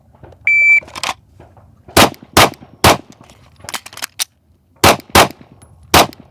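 A shooting competition stage opens with a short start beep, then about ten sharp, loud gunshots crack in quick irregular pairs and singles, each one ringing out briefly across the range.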